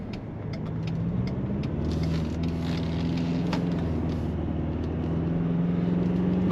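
Ford Ranger Raptor pickup with automatic gearbox on a road test, its engine humming low and steady inside the cab, with road rumble and faint clicks running through.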